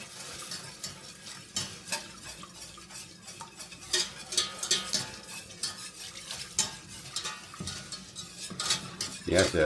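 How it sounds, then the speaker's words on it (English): A whisk works milk into a thickening sauce for au gratin potatoes in a pan, giving a rapid, steady scraping and clicking of metal against the pan with faint sizzling underneath. "So we're going to slowly add in the milk while we whisk"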